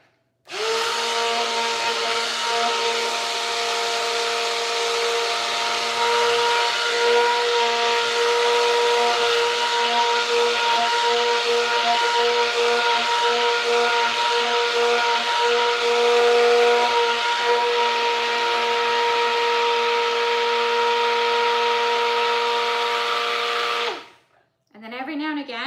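A stick blender mixing olive oil cold process soap whirs loudly and steadily for a long stretch, a constant high motor whine close by, cutting off abruptly near the end.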